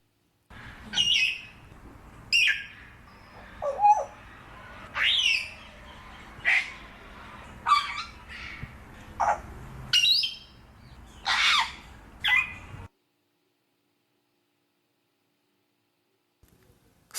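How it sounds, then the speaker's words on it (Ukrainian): An African grey parrot squawks and whistles in a series of sharp, bright calls spaced about a second apart, fairly close, with no speech, before falling silent. "Папуга Жако"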